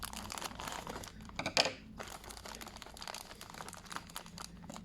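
Plastic packaging around a collectible anime figure is cut and torn open, close crinkling and crackling with a sharp tearing burst midway, then quieter rustling.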